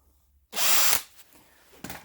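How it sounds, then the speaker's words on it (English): A wire brush spun on a power drill scours corroded terminals on a Warn M6000 winch, one loud sustained whirring burst of about half a second, then a faint pause and a brief second touch of the brush. "I hit everything with the wire brush on a drill."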